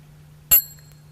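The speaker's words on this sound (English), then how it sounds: "This is a mini bell, and this one is a bell inviter." A single clear strike on a mini mindfulness bell with a bell inviter, a bright metallic ping that rings on with a thin, high shimmering tail fading over about half a second against a quiet low hum.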